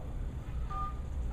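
Telephone dialing tones while calling a number, a couple of short steady beeps over a low hum.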